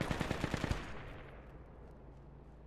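A burst of M249 machine gun fire in a video game: a rapid string of loud, close shots lasting under a second, then fading into a low rumbling tail.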